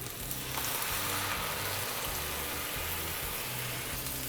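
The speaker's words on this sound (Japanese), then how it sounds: "白ワインを加えたらアルコール分を飛ばして" White wine poured over beef ragù bianco in a hot pan sizzles and crackles steadily at high heat, a soft, even hiss close by with no one speaking.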